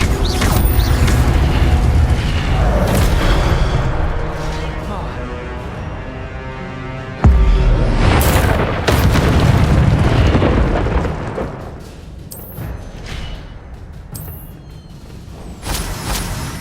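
Incendio fire spell blasts in Hogwarts Legacy, a run of loud whooshing bursts and booms mixed with mechanical clatter of combat, with voices heard at times.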